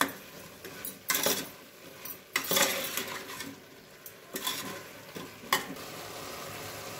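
Salted mushrooms fry in a pan for biryani while a utensil stirs them. About five distinct scraping bursts rise over a quiet, steady sizzle.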